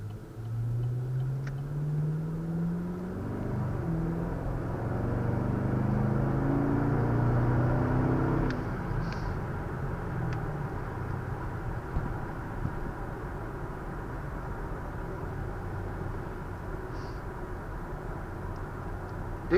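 A 2014 Chevrolet Camaro SS picks up speed after a turn, its engine note climbing steadily for several seconds before settling into an even cruising drone with road noise.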